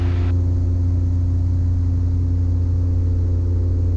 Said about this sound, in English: I'm going to pull my left engine back, pitch up, full power on the right.